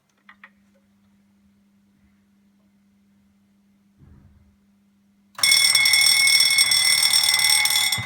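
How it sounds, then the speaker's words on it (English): After a few faint clicks and a low hum, a loud electric alarm bell, triggered by a PLC timer after a door opens, suddenly starts ringing continuously, harsh and close. "after another 5 seconds the bell will sound again"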